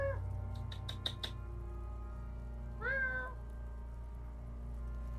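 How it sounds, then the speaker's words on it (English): A house cat meows several times, a quick series of short cries followed by one longer, wavering whine, close and fairly quiet over a steady low hum. "One of my cats is whining about something."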